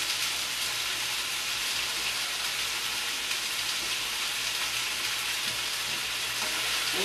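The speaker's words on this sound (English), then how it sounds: "And you just stir that in with your meat." Green pepper and meat stir-frying in a hot pan, a loud continuous sizzle with no pauses, close and steady from start to finish.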